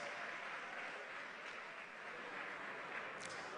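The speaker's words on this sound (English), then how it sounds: "A round of applause" Quiet, distant round of applause from the audience at the 2018 NSMQ quiz finals, a continuous even patter of clapping lasting the whole moment, with no talking over it.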